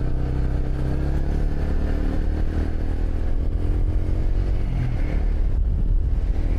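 A motorcycle engine runs steadily and close by with a low, continuous drone, throttled up slightly toward the end while riding around a village.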